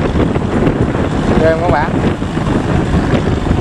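A stone-laden cargo boat races past on the water, its loud, steady engine rumble and rushing wash blending with wind buffeting the microphone throughout, while someone briefly speaks over the noise.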